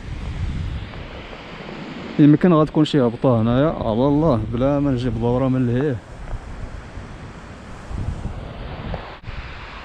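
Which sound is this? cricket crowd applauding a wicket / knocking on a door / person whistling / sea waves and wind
sea waves and wind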